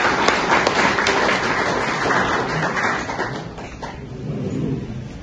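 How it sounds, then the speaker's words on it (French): An audience at a university gathering gives a steady round of applause for Madame Espinasse, dense continuous clapping that stays fairly loud for the whole stretch. "Et nous avons un applaudi pour les Espinasse."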